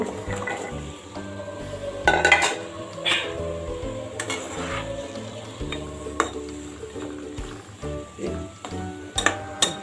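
Drumstick (moringa) pieces and potato are tipped into a pan of cooked-down spice paste for a chapila fish curry, giving soft thuds, stirring scrapes and a low sizzle over a steady tonal background.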